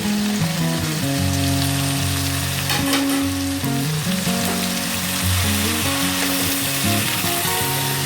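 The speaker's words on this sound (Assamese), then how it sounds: "শাকখিনি মই এতিয়া এনেকৈ অকণমান ফ্ৰাই কৰি ল'ম।" Chopped spinach fries in hot oil in a kadai, a loud continuous sizzle and crackle close up with stirring scrapes running through it, going on without pause and with no voices.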